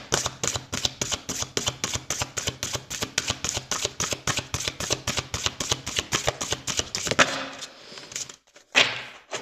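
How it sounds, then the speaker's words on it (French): Oracle cards being shuffled by hand in a rapid, steady riffle of crisp papery flicks, close and alone, ending in a few looser slaps and rustles. "on va aller prendre une carte conseil de l'oracle intuitif"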